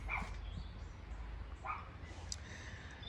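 A dog barks a few times in the background of a quiet indoor morning setting, short faint yaps spaced apart with no talking.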